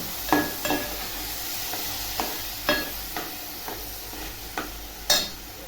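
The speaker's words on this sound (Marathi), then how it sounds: "आता हा तांदूळ टाकते तांदूळ टाकल्यावर पण बघा चांगलं असं परतून घ्यायचं" Rice being sautéed in a pan for moong dal khichdi gives a steady low sizzle broken by repeated scraping strokes of a spoon, about eight sharp stirs over several seconds, close and moderately loud.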